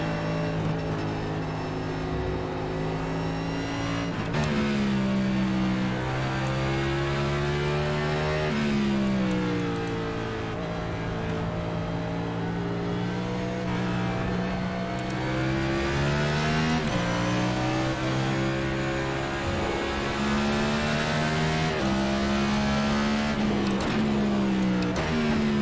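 NASCAR race car engines in iRacing at COTA drone loudly and continuously, pitch rising and falling with throttle through corners and shifts, a near, steady in-car roar throughout.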